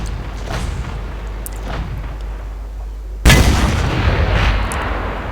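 Tank cannon fire in a tank video game: a hiss of engine rumble, then one loud, sudden boom partway through that decays into a lingering roar.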